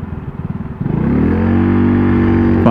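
A Honda Pop 100 motorcycle engine putters unevenly, then revs up into a loud, steady, close drone that holds to the end.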